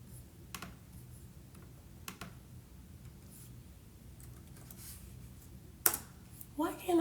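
Fingers type a note on a computer keyboard in scattered, soft clicks and taps, with a few sharper knocks near the end, in a quiet room.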